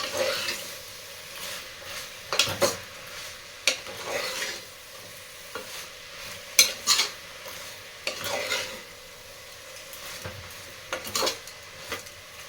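Mushrooms with salt fry in a pan under repeated, irregular stirring: spatula scrapes and clatters against the metal over a soft, steady sizzle, close by.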